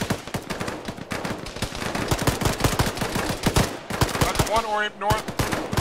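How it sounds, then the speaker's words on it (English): Enemy machine-gun fire in a military video game, with dense, continuous bursts of automatic shots running the whole time while players talk over it. "One's got a lot of enemy gunfire, north from position."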